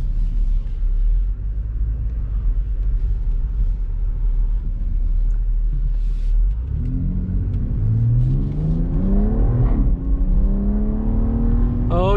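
A 2021 BMW X3 M Competition engine rumbles steadily at first, then revs up loudly through rising pitch sweeps as the SUV accelerates on a test drive, heard from inside the cabin.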